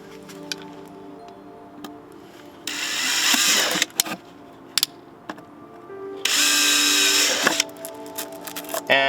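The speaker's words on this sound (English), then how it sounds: "make sure that you know where you're going to be doing your drilling" A power drill bores into a car fender in two loud, sustained bursts of a few seconds each, with shorter clicks, taps and handling noises between them.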